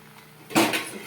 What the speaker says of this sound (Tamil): சூடானதும் நல்லா ஒரு கரண்டி ஊற்றுறோம்